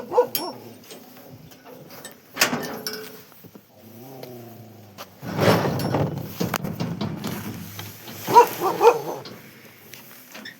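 A dog barks at a village home in India as someone arrives and the gate is opened: repeated barks and yips with some whimpering, close and loud, with someone speaking between them.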